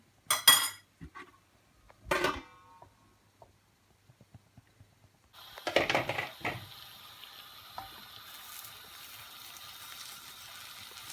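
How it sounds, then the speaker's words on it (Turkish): A lid set onto a pan while cooking an oat and zucchini omelette: a couple of sharp metallic clinks near the start, then rattling handling and a steady low sizzle of food in the pan. "Kapağını kapatıyorum."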